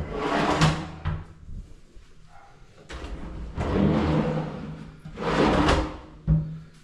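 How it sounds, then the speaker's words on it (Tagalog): A drawer in a walk-in closet of a master bedroom slides open and shut several times, each a broad scraping rumble lasting about a second, close and fairly loud, with faint background noise and no talking. "Drawer."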